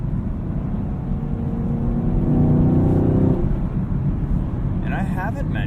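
A 2018 Chevrolet Camaro 2SS with a manual gearbox accelerates at night, its engine rumble building to a brief, strong surge and then easing off, heard from inside the car.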